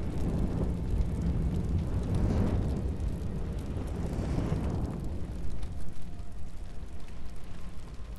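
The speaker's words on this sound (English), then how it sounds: "Everything's going up at flames, boys." Fire and flames in the video game Solace: a steady, loud roaring rumble with swelling surges, like a large blaze burning continuously, with no talking.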